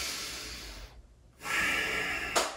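A full yoga breath cycle, a long breathy inhale and then a forceful exhale through the nose, close and alone, with a short quiet pause between them and a small puff at the end.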